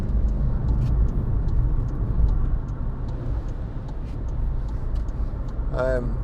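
A 2016 Skoda Fabia 1.4 TDI Monte Carlo diesel hatchback accelerating on the road, heard from inside the cabin as a steady low engine drone and road rumble with faint ticking, holding an even loudness throughout.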